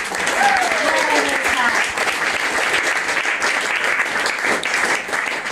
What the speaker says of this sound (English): a round of applause for the Lotus Heart for having us.